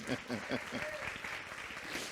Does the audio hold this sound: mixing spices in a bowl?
no